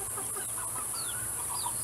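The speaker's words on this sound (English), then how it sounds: "The ducks do not shut up." Busy duck quacks, clucks and honks from several birds overlapping continuously, fairly close, over a steady background hum, on a homestead in winter.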